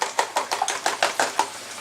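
Egg mixture beaten in a bowl for a veggie frittata, about nine quick rhythmic whisking strokes tapping against the bowl, close and fairly loud, with no talking.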